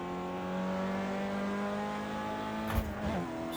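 An Audi A1 Quattro race car in the racing game Project CARS 2 at Bathurst holds a steady, buzzing high-revving engine note, then shifts gear near the end with a brief dip and clatter.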